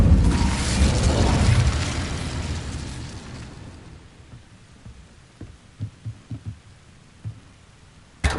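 A heavy, roaring burst from the Incendio fire spell in Hogwarts Legacy swells loudly at first, then fades into a low rumble, followed by a few soft thuds and a sharp click at the end.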